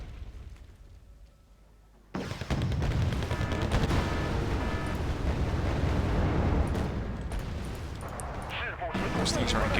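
Tanks firing in the Wargame Red Dragon strategy game, a quiet lull giving way to loud, dense, continuous booming cannon and gunfire that rumbles on without pause.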